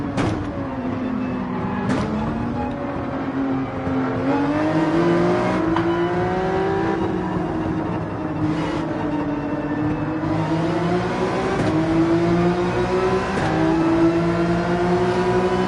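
A race car engine held at full throttle in Gran Turismo 7 on the Highway 1 track, a steady loud whine that climbs through gear changes with brief dips at each shift, running unbroken and alone.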